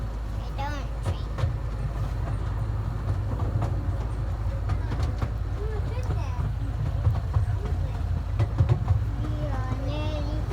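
Rumbling Halloween ride train interior with a steady low roar and faint rattles, while people talk nearby throughout.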